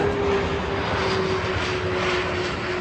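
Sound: airplane flying overhead

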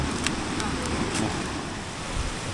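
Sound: waterfall in a forest

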